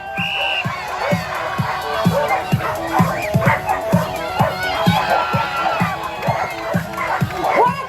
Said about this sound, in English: Pick your favorite dog and cheer them on.